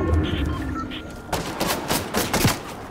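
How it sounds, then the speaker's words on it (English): Rapid gunfire strikes a player-built structure during a Fortnite duo match, heard as a quick burst of sharp cracks and impacts over a busy game background, fairly close and loud. "He's shooting my building."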